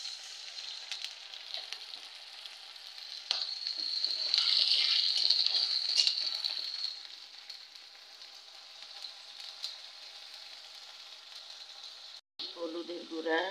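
Water poured into ginger-garlic paste frying in a pan, a bright, hissing sizzle swelling sharply, then settling into a softer steady crackle, with a short clatter at the end.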